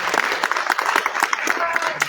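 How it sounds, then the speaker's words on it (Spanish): An audience applauding for two named people at an evening presentation, steady dense clapping throughout with a voice speaking over it. "un aplauso para Juan Sebastián Rodríguez Massa y para Elizabeth Axel"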